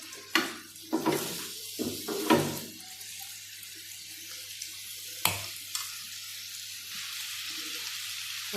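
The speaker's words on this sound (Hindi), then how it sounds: "अब मैं इसको अच्छी तरह से मिक्स कर देती हूँ।" Marinated chicken is stirred on a hot tawa: a spatula scrapes in several quick strokes, then a steady sizzle of frying continues softly underneath, close and with no talking.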